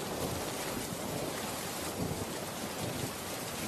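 A cartoon rainstorm with wind makes a steady, heavy wash of rain noise that stays even throughout, with no voices.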